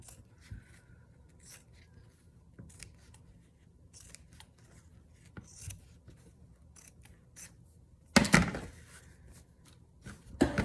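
Scissors snip ribbon in a series of quiet, scattered cuts up close, followed by a louder rustling clatter near the end.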